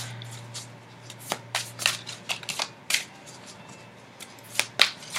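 Someone shuffles a deck of tarot cards close by, making quick papery riffles and slaps in irregular bursts over a faint low hum.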